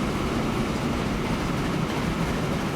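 A short freight train of mixed goods wagons rumbles along in Transport Fever 2, a steady, dense rolling roar that holds at an even level throughout with no voices.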